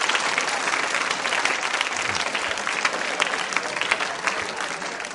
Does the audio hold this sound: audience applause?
yes